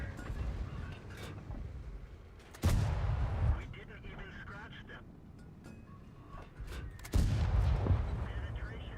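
Object 268 tank destroyer firing its main gun in World of Tanks, two heavy booming shots several seconds apart, each followed by a short rumbling tail over a steady engine and ambient bed, with someone talking lightly underneath.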